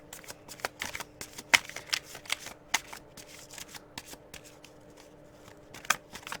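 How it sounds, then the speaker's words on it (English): Tarot cards being shuffled and dealt out onto a surface, a run of soft papery flicks and slaps in an irregular rhythm, close and fairly quiet. "So I'm going to lay out 12 cards here."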